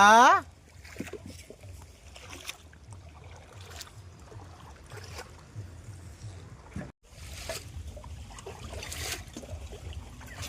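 Water sloshes and trickles around a boat as it is rowed on a large wetland lake during fishing, with occasional splashes and knocks, while people talk nearby.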